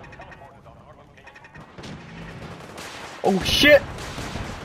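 Automated turret gunfire in Fallout 4 rattles amid a chaotic firefight, swelling into a loud close burst near the end while people talk and shout over it.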